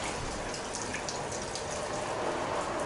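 Water from a bathtub tap pours steadily onto a pair of cheap hiking pants, a close, unbroken rushing hiss like hard rain drumming on fabric, with no voices.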